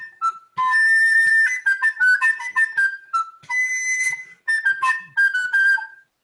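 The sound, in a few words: woodwind trill with fast shake starting from above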